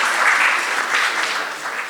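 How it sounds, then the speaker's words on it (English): Audience applause at a medical conference, a dense, even wash of clapping from a crowd that holds steady for a couple of seconds before easing slightly. "Big round of applause for Dr."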